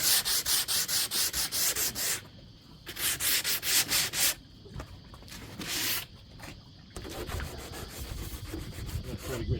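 Coarse 40-grit sandpaper rubbed by hand over wood, loud rhythmic scratching strokes in quick bursts with short pauses between, close up and with no talk.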